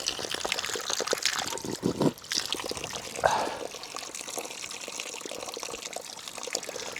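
Glacier-fed spring water trickling straight out of a pipe outdoors in Alaska, a steady close pouring and splashing wash that runs on throughout with a few brief louder splashes.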